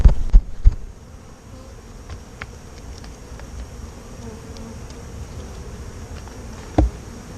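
A dense swarm of bees buzzes steadily and loudly while being removed from an old oak tree, with a few sharp knocks near the start and another near the end.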